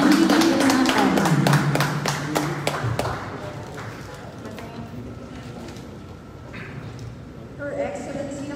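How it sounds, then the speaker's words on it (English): An audience applauding the Vice Mayor of the City of Manila at a public event, a loud burst of clapping that thins out after a few seconds into scattered claps and room murmur. "let us give a round of applause to the Vice Mayor of the City of Manila"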